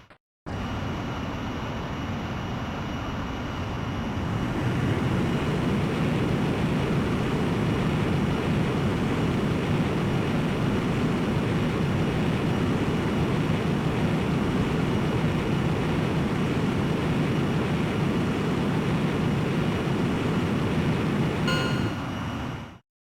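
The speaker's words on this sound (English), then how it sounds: "Griffith 1, you are cleared for takeoff." Jet aircraft engine roar building up for takeoff in the Ace Combat X video game, a steady loud rumble that swells after a few seconds and holds until it cuts off.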